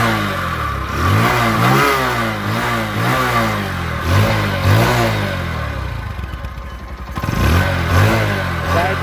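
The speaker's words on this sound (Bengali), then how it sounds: "এখন দেখাবো গাড়িটির সাউন্ড কন্ডিশন এবং পারফরমেন্স।" A used black-and-blue Bajaj Discover 100cc motorcycle revs repeatedly, its engine rising and falling in loud, close bursts with a brief dip near the end before climbing again.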